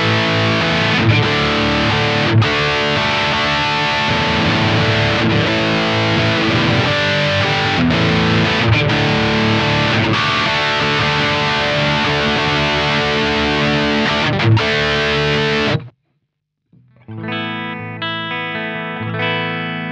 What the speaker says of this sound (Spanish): puedo encender el 5, que es el Tube Screamer, y tengo overdrive más distorsión